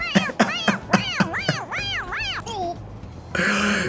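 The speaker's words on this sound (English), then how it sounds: "It meows when you press on its head." A squeaky stuffed toy cat in Persona 5 Royal meows when pressed on the head, giving a quick series of short squeaks followed by longer warbling meows, loud and close, ending in a burst of noise.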